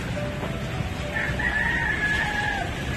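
A rooster crows loudly and close by, one long drawn-out call over a background of clucking chickens and outdoor ambience.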